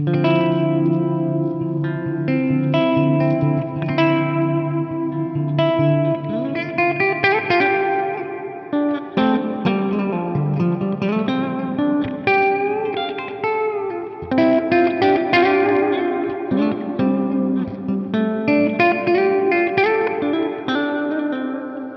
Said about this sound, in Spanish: crea un sonido como súper etéreo pero sin meternos en shimmer ni nada de esto, es básicamente un hall